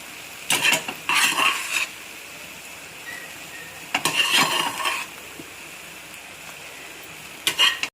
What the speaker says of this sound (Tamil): இப்போ நம்ம சாதம் கலக்க போகிறோம்.